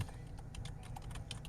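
Quick, light clicking of keys on a computer keyboard, a close, quiet patter of uneven taps over about a second and a half.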